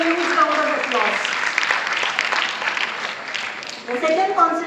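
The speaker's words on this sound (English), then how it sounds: "Please encourage them with a huge round of applause." Applause from an audience at a road safety summer camp prize ceremony for a painting competition winner, a moderate wash of clapping with voices audible over it.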